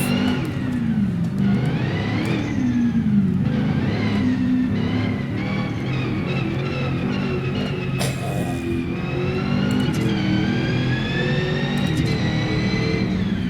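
A BMW E30 engine in the BeamNG Drive racing game revs hard through a string of gear shifts, its pitch climbing and then dropping at each change in a loud, continuous drone.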